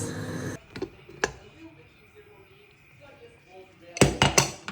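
Loud clattering metal clanks from closing a pressure cooker lid on khichdi, a burst at the start and a rapid cluster of knocks near the end, with quiet between.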